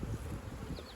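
Honey bees buzz on a hive frame of capped brood full of young bees, a steady close hum with faint rustling and no voices.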